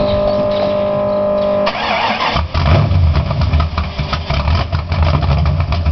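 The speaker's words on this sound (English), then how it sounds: "in just a few seconds you're going to hear this car start" A Ford Mustang with a new motor and cam cranks over and fires up, the starter whir giving way to a loud, lumpy, rumbling idle close to the microphone.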